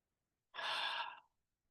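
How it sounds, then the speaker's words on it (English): A single deep breath, drawn and released in about two-thirds of a second, soft and airy against near silence. "taking a nice deep breath"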